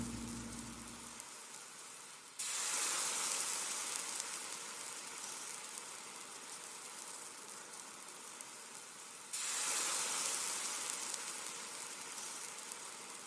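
Pineapple chicken with a ketchup and honey glaze bubbling in a single pot, giving a steady broadband hiss and sizzle that swells louder twice, with no voices over it.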